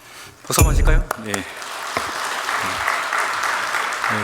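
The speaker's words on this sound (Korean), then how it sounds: "박수 한번 칠까요?" Church congregation clapping together at a New Year's Eve service, a short burst of applause after a worship song that dwindles to scattered claps and room murmur, with a voice speaking briefly over the start.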